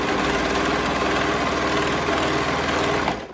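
Sewing machine stitching a ruffle onto a princess dress, a fast, even mechanical whirring that runs steadily for about three seconds before slowing and stopping.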